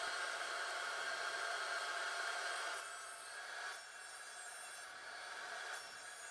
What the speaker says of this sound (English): now they're going to go through the table saw and get a taper cut